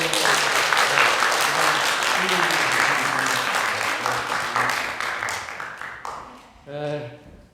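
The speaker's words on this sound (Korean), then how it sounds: "자, 박수 한번 해주세요." A church congregation applauds during a Sunday service, with dense, steady clapping that slowly tapers off. A voice speaks over it near the end.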